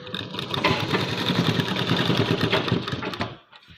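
A sewing machine runs a quick, continuous burst of stitching for a cross stitch, its needle rattling rapidly and close for about three seconds before it stops.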